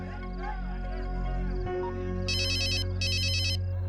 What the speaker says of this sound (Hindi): सुनो, तुम्हारा फोन बज रहा है।